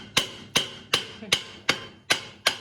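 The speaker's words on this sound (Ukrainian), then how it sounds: "Давайте бийте молотком, щоб наша сварка відпала." Seven sharp metallic hammer blows ring out at an even pace on a welded exhaust pipe of an MTZ tractor, each strike bright and clanging with a short decay.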